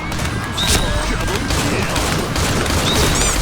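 Shotgun fire in the online shooter Point Blank, dense game battle noise with bursts of gunfire and crashes throughout, loud and continuous with brief chirpy effects and faint voice.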